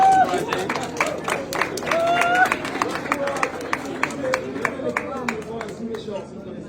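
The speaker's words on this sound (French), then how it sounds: "Et vous applaudirez ça" Audience applause at a talk by a Congolese chemist and inventor, a scattered burst of clapping over crowd murmur and overlapping talk, fading as the claps thin out.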